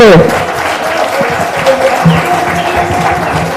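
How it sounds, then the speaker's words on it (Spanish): Applause at a cultural event celebrating Papiamentu heritage: a crowd claps steadily for a few seconds, the clapping fairly close, with faint voices and some music-like tones underneath. "Un fuerte aplauso"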